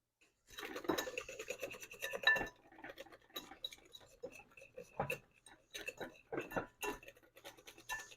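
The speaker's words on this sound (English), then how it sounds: "we're just going to continue to whip and mix until that butter melts" A whisk clatters rapidly against a pan while butter is beaten into hollandaise sauce, busy metallic ticking and scraping in uneven bursts with short pauses, close and clear.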